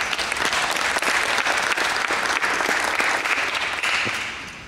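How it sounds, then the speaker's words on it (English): Sustained audience applause at an NJROTC summer program graduation ceremony, a dense steady burst of many hands clapping that fades slightly toward the end. "Give yourself a round of applause."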